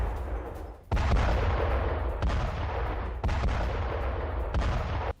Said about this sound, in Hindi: सेंट्रल इजराइल में 3 जगहों पर जोरदार धमाका, मीडियम रेंज बैलिस्टिक मिसाइलें दागी गई हैं।